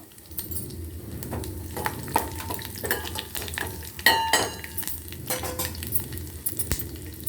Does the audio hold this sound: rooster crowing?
no